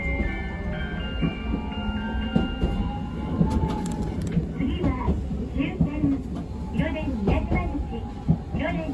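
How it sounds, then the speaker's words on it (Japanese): A Hiroden tram pulling away from Miyajimaguchi station in Hiroshima, with a low rumbling motor hum and rail noise building steadily under a station announcement voice. "電車が動きます。"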